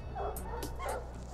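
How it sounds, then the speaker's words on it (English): Hunting dogs tracking a cougar bark and yip a few times in quick succession, with a whimpering edge, fairly close over a low background rumble. "The team follows the tracks of the cougar and the dogs and the sounds of barking."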